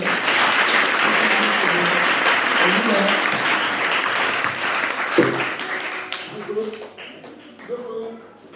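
A church congregation at a healing seminary closing service applauds loudly and steadily for several seconds, the clapping thinning out toward the end as voices and shouts rise over it.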